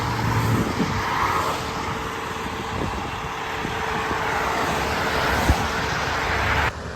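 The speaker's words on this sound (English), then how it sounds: "Cars are not slowing down much either. Zooming past." Highway traffic rushes past a broken-down semi truck waiting on the shoulder, a loud, continuous roar of passing cars with a few brief thumps, alone without talk.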